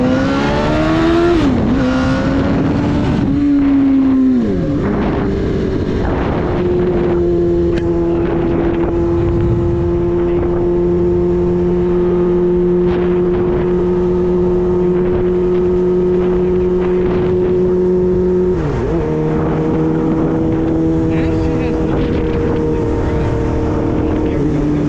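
A Suzuki GSXR 750 motorcycle engine drones loud and close while riding, holding a steady pitch with several shifts and revs up and down, under heavy wind rush.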